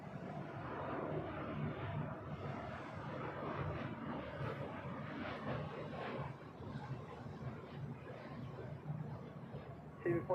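An Air Canada Boeing 787 Dreamliner taxis toward takeoff at LAX, a steady, fairly faint jet engine roar with broadband airport background noise throughout.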